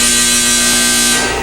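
A household clothes dryer runs with a steady, loud mechanical hum and whir, close by and unbroken, with no talking.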